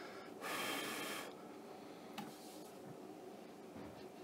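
A short, loud rush of breath blown into a homemade ozone generator box, lasting under a second, followed by quiet room noise with a faint click.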